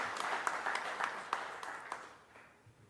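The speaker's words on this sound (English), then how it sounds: "We have to give a big clap together." Applause at an annual general body meeting of the Bulk Drug Manufacturers Association in India, soft and somewhat distant, with a few sharper individual claps standing out before it tapers off.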